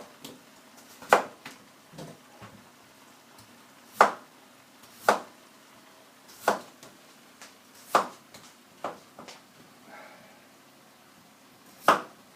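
Potatoes are sliced for a hotpot, each cut a sharp knife tap on a board, about ten distinct chops spaced roughly a second apart, close and fairly crisp, with no talk.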